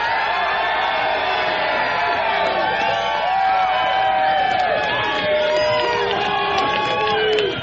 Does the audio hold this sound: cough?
no